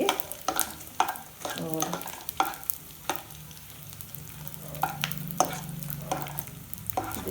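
Methi dana laddoos fry slowly in a pan over low heat, giving a steady sizzle with repeated stirring clatter and scrapes throughout, close and moderately loud, a voice briefly speaking.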